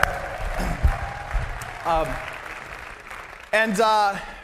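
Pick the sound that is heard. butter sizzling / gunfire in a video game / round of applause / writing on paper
round of applause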